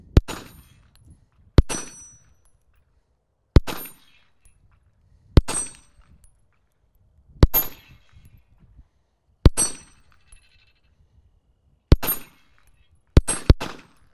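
Rifle shots slamming into a steel combat training target outdoors, nine loud, sharp cracks each followed by a brief metallic ring, spaced about two seconds apart before the last two land in quick succession.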